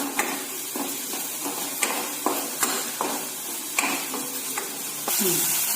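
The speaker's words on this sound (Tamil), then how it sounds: "இப்போ தேவையான அளவு சால்ட் இதையும் ஆட் பண்ணி நல்லா ஃப்ரை பண்ணிக்கலாம்." Pasta sauce fries and sizzles in a pan as salt goes in, a steady close sizzle broken by repeated sharp scrapes and taps of a spoon stirring against the metal.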